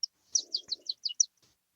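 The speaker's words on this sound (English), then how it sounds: "I can hear the birds behind you" Small birds chirping in a short, quick series of high, clear tweets, fairly close and distinct over a quiet background, with no talking.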